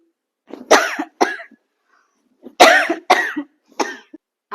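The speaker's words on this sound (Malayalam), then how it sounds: "ഈ കാപ്പി കുടിച്ചോണ്ടൊന്നും എന്റെ ചുമ കുറയാൻ പോകുന്നില്ല" A woman coughs in two close bursts of harsh, loud coughs separated by a short pause, alone with no talk, each burst made of several quick barking hacks.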